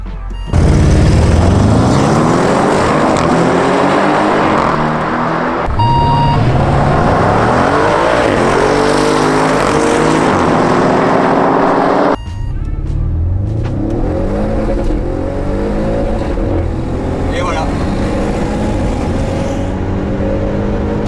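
An Audi RS6 on track at Dijon-Prenois climbs hard through the revs again and again, its engine note rising and stuttering against the rev limiter, with brief drops at each gear change, loud and close throughout.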